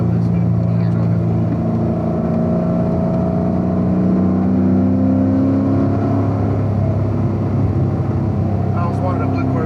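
A blue Chevrolet Corvette engine hums in a steady, sustained drone with layered tonal whir, loud and constant throughout, with a person talking over it.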